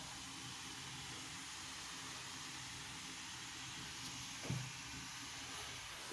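A Walmart hand-held clothes steamer, just heated up, gives off a steady, soft, airy hiss that stays level throughout, with one brief low thump near the end.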